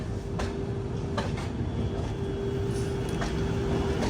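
A WG-12 electric locomotive, India's most powerful, rolls past at a railway station, a loud, steady rumble with a sustained electric hum and several sharp clanks from the wheels.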